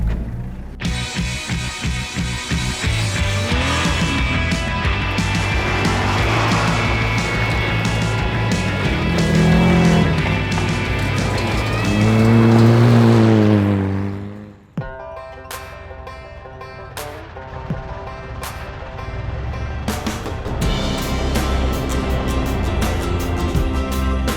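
An off-road vehicle's engine labors loudly up a steep hill climb, revving and straining before abruptly cutting out near the midpoint, followed by quieter mechanical sounds as it stalls and rolls back in reverse.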